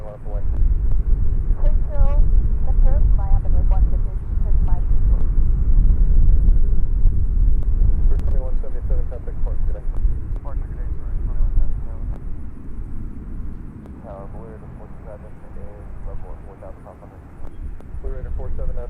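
A Southwest airliner takes off from runway 20 center at Nashville airport, a loud broad roar that swells and holds, then slowly fades, heard beneath air traffic radio chatter.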